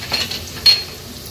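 Cumin, finely chopped green chilli and white sesame seeds sizzle briefly in hot oil for a fasting-day tempering, a soft crackle with a couple of quick stirring scrapes and clinks, close and short.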